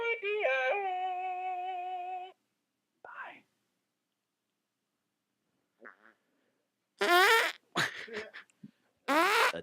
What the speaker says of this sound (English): A double fart.